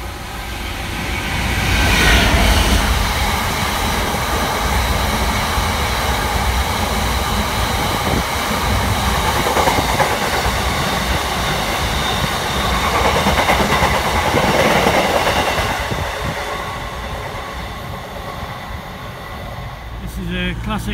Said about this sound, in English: Classic 66 heavy goods train coming through Market Harborough on platform 1 going to Leicester.